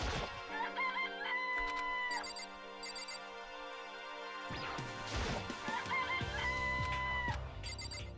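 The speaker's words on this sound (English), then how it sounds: "It's a chicken." Chicken clucks and squawks come from the video game Danganronpa: Trigger Happy Havoc, mixed with bright electronic music tones and a sudden crash midway.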